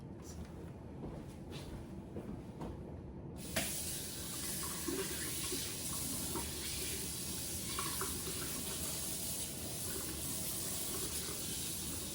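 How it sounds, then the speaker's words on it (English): Tap water runs into a kitchen sink for handwashing while baking chocolate biscotti, a steady close hiss of flowing water that starts a few seconds in and continues unbroken. "So I'm going to wash my hands."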